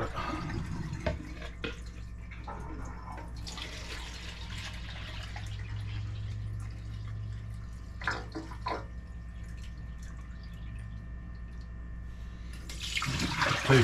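Water pours into a container at an off-grid caravan, a steady low filling sound with scattered drips and splashes that runs for several seconds and grows louder near the end.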